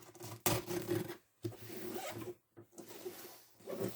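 Paper or plastic wrapping of a mailed package being torn and rubbed open by hand, with several bursts of crinkling and rasping separated by short pauses, close up.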